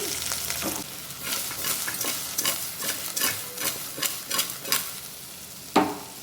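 Chopped bottle gourd with salt and turmeric stirred in a pan: steady scraping spoon strokes in a loose rhythm over a soft, constant sizzle, close up, with no voices.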